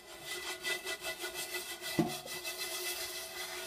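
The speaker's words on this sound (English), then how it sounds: "So, now I'm going to clean it. My chainmail scrubber." A chainmail scrubber rubs across a vintage #12 Iron Mountain (by Griswold) cast iron skillet in steady, repeated close-up strokes, with one sharper metallic clink partway through.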